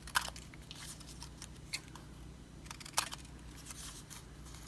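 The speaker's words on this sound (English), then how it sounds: "Cut the little corners." Small scissors snip the corners of a paper collage gift tag, making a few faint, crisp clicks spread across a quiet, close-up scene.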